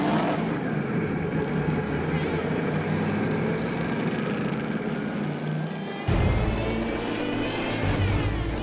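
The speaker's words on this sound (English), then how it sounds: "Today, the 354 horsepower engine is demanding everything from the driver on Mercedes-Benz test track in Untertürkheim" A 354 hp Mercedes-Benz Silver Arrows historic race car runs on a test track with a loud, continuous engine drone. Near the end the pitch and tone change abruptly, and a voice speaks over it.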